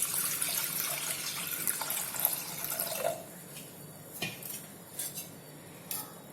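Water runs into a pot over washed toor dal in a home kitchen, a faint rushing pour that stops partway, followed by a few soft clinks and taps of the vessel.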